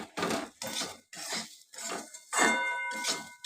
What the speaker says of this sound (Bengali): একটু ভেঙে ভেঙে দিতে হবে টমেটোটাকে